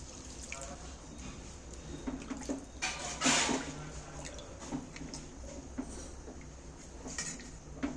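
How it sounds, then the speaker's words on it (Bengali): Water is poured into a cooking pot of rice and pointed gourd, giving a soft, continuous splashing trickle with faint clinks of the pot. Quiet kitchen background, with no talk. "এবার আমি পরিমাণ মতন জল দিচ্ছি"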